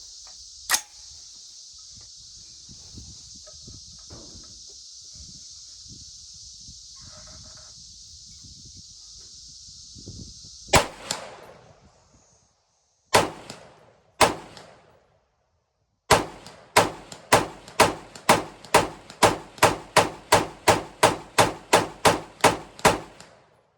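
Shots from a Delton Sierra 316L rifle ring off a steel target, first a few spaced cracks and clangs, then a fast, regular string of close, loud reports over a faint background hum.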